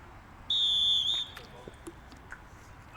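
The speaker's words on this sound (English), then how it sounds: "Ref blows the whistle, and we're back on our way." At a men's college soccer match, the referee gives one loud, sustained whistle blast lasting under a second, followed by faint field and crowd noise.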